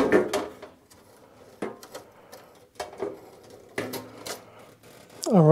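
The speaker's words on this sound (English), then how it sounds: "we're gonna go ahead and unscrew all these screws right here and take this lid off" Screws being unscrewed from the lid of a 48V 100Ah LiFePO4 powerwall battery, a series of short sharp clicks and scrapes spaced irregularly with quiet gaps between, ending in a squeaky rising turn, close up.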